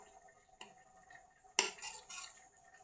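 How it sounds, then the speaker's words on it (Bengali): A metal spoon stirs cauliflower frying with tomato in a pan, giving a soft clink followed by a sharper scrape and rattle against the pan. Everything stays fairly quiet, with no talking. "এখানে আমি ফুলকপি ভাজি করছি"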